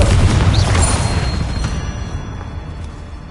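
Bombarda and Confringo spell explosions in Hogwarts Legacy hit as a loud, deep boom with a rumbling tail that slowly fades, a faint whistling swoosh riding over the blast.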